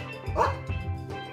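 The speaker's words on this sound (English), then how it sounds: "Dog. It's a dog." A dog's short barks and yips, close and moderately loud, a few quick bursts in a little over a second with a faint whimpering tone.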